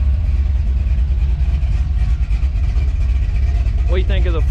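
A car with Flowmaster 40 exhaust idles with a deep, steady exhaust rumble, loud and close, with a voice briefly starting to speak near the end.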